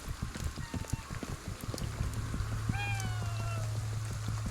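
A cat meows in the video game Ghostwire: Tokyo, giving a clear drawn-out call over a steady hum and scattered footstep-like taps in the game's ambience.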